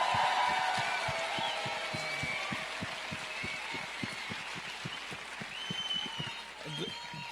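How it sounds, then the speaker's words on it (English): Sustained applause from an audience at a Green New Deal rally in Washington, DC, a dense wash of claps steady and loud throughout, with some voices mixed in beneath. "Can we quickly give another round of applause for Judith?"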